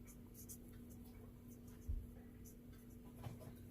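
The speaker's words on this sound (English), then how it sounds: "I'm going to write here German pinks on this little" A pen writes by hand on a small plant label for German pinks seeds planted indoors, a faint scratching close to the microphone under a low hum with soft thumps.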